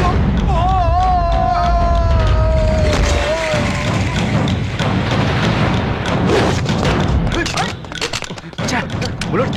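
Gunfire in a Tamil film scene, a dense run of heavy, rapid shots and thuds that follows music and voices and then thins out as the bullets run out.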